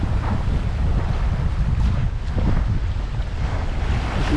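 A sailboat under headsail alone runs at over 6.5 knots in strong wind and current in the San Juan Islands. Steady wind buffeting and rushing waves fill the whole stretch with a constant, loud roar.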